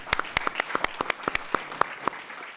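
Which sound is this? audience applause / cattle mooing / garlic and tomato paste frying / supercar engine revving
audience applause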